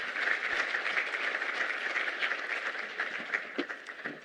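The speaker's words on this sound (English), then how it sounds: "So please make a round of applause as he makes his way to stage." Steady audience applause fills a symposium hall as a government minister walks to the stage, a dense even clapping that carries on for several seconds without any speech.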